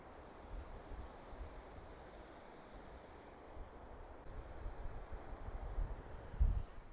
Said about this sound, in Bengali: এখন কিন্তু জোয়ার চলছে, জলটা কিন্তু অনেকটা কাছে।